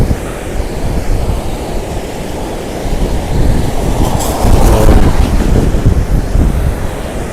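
A rain-swollen river fed from the hills, its dam gates open, rushes past at full speed in a loud, continuous roar close by, with wind buffeting the microphone.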